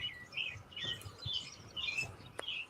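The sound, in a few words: birds chirping at sunset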